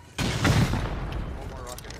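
Rocket launcher fired in the console version of the survival game Rust, a sudden loud blast that swells into a rumbling boom and slowly decays, with players talking over it.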